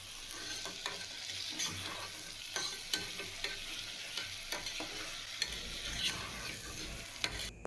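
Vegetables and green peas for biryani stirred in a sizzling pan, a soft steady fry punctuated by repeated scraping and clinking strokes of the spoon.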